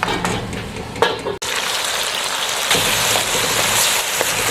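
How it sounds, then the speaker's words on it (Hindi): Aloo baingan sabzi of potato and eggplant rests on dum in a pan, a steady soft hiss and gentle sizzle that continues evenly throughout with no voices. "अब इसको 1-2 मिनट के लिए हम दम पे रखेंगे ताकि जो आलू और बैंगन है थोड़े से अच्छी तरह से नरम हो जाए"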